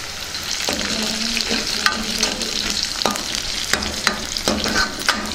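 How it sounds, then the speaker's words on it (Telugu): Onions, garlic cloves and dried red chillies fry loudly in a pan, a dense sizzle broken by repeated spatula stirs and scrapes. "ఇందులోనే వెల్లుల్లిపాయ రెబ్బలు వేసేసుకుందాం. వీటిని కూడా బాగా వేయించుకుందాం."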